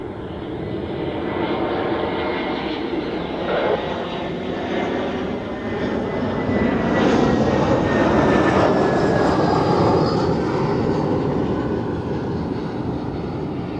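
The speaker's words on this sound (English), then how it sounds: "next we have the Edelweiss A320" An Edelweiss Airbus A320 airliner at Zurich Airport roars loudly and steadily with jet engine noise, swelling slightly midway as it passes near, a sustained broadband rumble with a faint whining tone and no talking.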